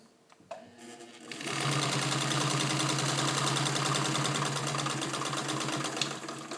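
A fully serviced Singer 66-18 Centennial sewing machine with crinkle finish stitches through garment leather: a click or two, then a loud, steady, rapid mechanical whirring and thumping that runs continuously at close range with no talking.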